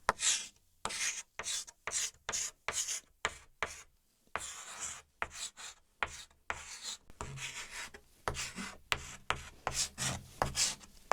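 A marker scratches and rubs across a board in short quick strokes, squeaky bursts separated by brief pauses, close-up and with no voices.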